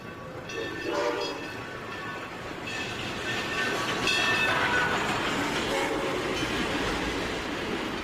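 Southern Pacific 2472 steam locomotive hauling a passenger train, with a steady rolling rumble of cars, rhythmic clatter and a long horn or whistle tone rising midway, loud and close throughout.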